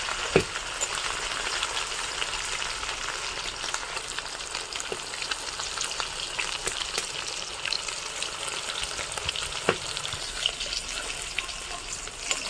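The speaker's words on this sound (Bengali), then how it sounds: "এই মাছগুলো খুব বেশি লাল করে ভাজবো না, হালকা লাল করে ভাজবো।" Pieces of katla fish frying in hot oil give a continuous, even sizzling hiss with occasional small pops, moderately loud and close, with no voices.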